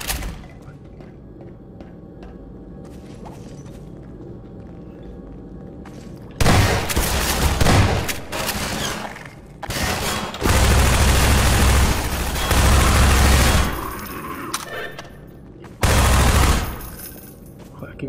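Shotgun fire in the video game Half-Life 2 comes as loud, heavy bursts of blasts and booms in several clusters, with quieter stretches of game ambience between them.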